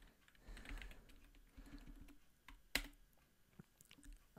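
Quiet, rapid typing on a computer keyboard with irregular clicky keystrokes and one sharper tap partway through, close and faint, with no voices.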